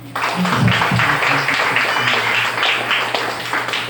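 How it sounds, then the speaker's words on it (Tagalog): A church congregation at a Sunday service applauds loudly and steadily, a dense wash of clapping that fills the room, with a low hum and a few voices and cheers mixed in. "Bigyan nga po natin ng malakas sa papuring palakpak."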